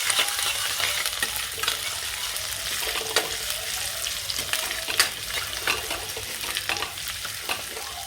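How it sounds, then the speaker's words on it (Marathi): Ginger fries in hot oil with a continuous close sizzle while a spoon stirs and scrapes the pan in repeated clinking strokes. "अद्रक पण घालायची लगेच. मिक्स करायचं."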